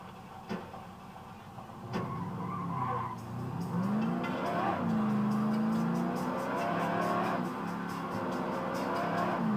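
A car driven in The Godfather video game, with its engine droning steadily and tires squealing in long, loud skids that rise and bend in pitch over several seconds, game sounds layered behind.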